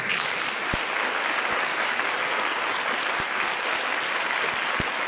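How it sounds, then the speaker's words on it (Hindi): Steady, loud applause from a large audience at a gospel church service, continuous clapping filling the whole stretch with no voices on top. "अगर थके नहीं तो जोरदार ताली बजाएं"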